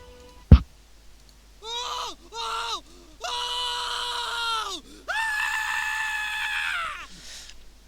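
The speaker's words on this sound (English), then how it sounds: "Muffled screams come through the stone." A voice performs muffled screams for a tabletop fantasy game scene: a sharp knock, then several strained, wavering wails rising and falling, the longest near the end, loud and close.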